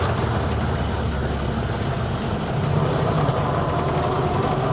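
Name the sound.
vintage truck engine while driving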